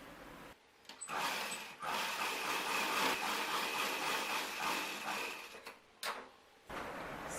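A sewing machine stitches fabric for a kids' summer dress, a steady close whirring run lasting several seconds, broken by brief pauses near the start and end.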